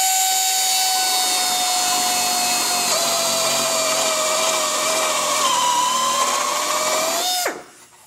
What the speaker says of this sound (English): we'll come in with a grinder and finish it off